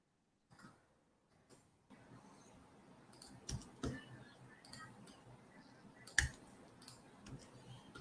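Faint keys are punched on a computer keyboard in scattered, irregular clicks, with a couple of sharper taps standing out in a quiet room.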